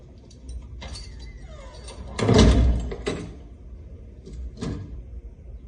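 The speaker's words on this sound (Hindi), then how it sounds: "जरा दरवाजा बंद करके जाना।" A door pushed shut indoors, one solid thud with a rattle standing out above low room noise, with a couple of softer knocks afterward.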